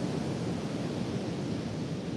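Steady broadband wash of ocean surf rolling onto a beach at sunrise, a continuous even roar with no distinct breaks, heard alone without talk.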